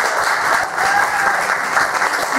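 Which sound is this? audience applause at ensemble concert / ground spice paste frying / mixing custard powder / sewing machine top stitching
audience applause at ensemble concert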